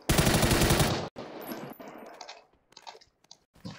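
Automatic gunfire in the battle-royale game PUBG, a loud rapid burst lasting about a second, followed by scattered fainter clicks and thuds.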